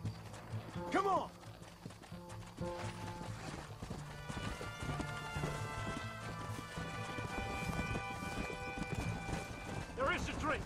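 Hooves of a galloping horse clip-clop in rapid rhythm in Red Dead Redemption, with a whinny near the start and again at the end, while voices and a musical score play over the hoofbeats.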